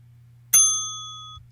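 A single sharp bell sound effect, struck once like a small bicycle-style bell, rings out clearly and sustains a pure shimmering tone for nearly a second over a low steady hum.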